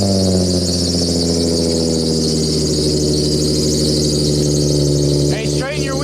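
A Power Stroke diesel engine revving hard with a steady loud drone and whining harmonics, held throughout, with a brief voice near the end.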